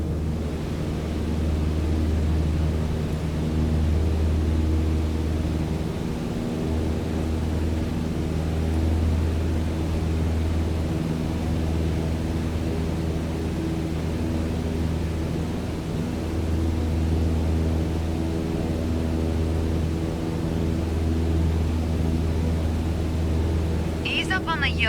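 A light aircraft engine in Microsoft Flight Simulator 2020 drones steadily at cruise with the throttle near 2,300 RPM, a loud, constant low-pitched hum with layered harmonics throughout, while a voice talks over it.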